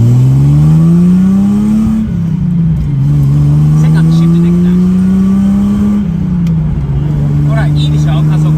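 Nissan Fairlady Z S30, a lowered DIY project car, revving hard through the gears as it accelerates, a steady engine drone rising in pitch and dropping at each shift, with people talking over it inside the cabin.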